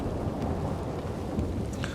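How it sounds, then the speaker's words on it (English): Heavy rain pours steadily under a low, continuous rumble of thunder in a Red Dead Redemption 2 thunderstorm, dense and unbroken throughout. "it seems like the rain's coming down at an angle"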